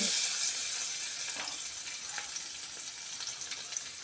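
Garlic sizzling in hot oil for tempering, a steady close frying hiss with faint scattered crackles and a few soft pops.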